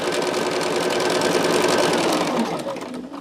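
A sewing machine stitches fast and steadily up close, a continuous rapid mechanical whir and clatter that slows and eases off toward the end.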